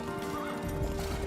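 A horse in the Age of Empires strategy game lets out one short, fairly close neigh over a constant game soundscape.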